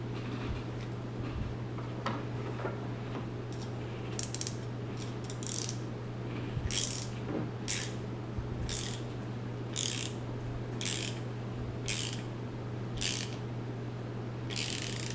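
Bottom part of a homemade vacuum chamber being screwed in, giving a series of repeated ratcheting clicks in short bursts at fairly regular intervals over a steady low mechanical hum.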